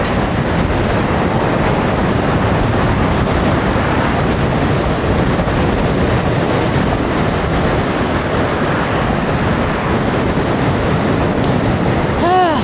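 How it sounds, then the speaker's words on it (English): Wind buffets a jacket and the microphone outdoors, a constant loud rumbling roar with flapping texture that runs unbroken throughout. "Wind and my jacket catching the wind."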